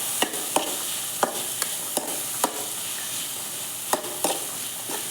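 Boiled chickpeas are stirred and fried with masala in a pan, with a light, steady sizzle under roughly ten crisp, regularly spaced spatula scrapes and taps.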